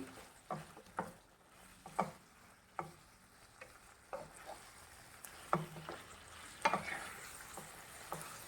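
A spoon stirs Goan-style beef chilli fry in a pan after vinegar goes in, a series of distinct scraping knocks at an uneven rhythm over a faint sizzle, fairly close but quiet.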